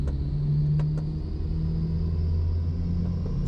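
A BMW M2 runs on a dyno in fifth gear, a steady loud engine drone and rumble held at constant pitch, with a couple of brief clicks over the top.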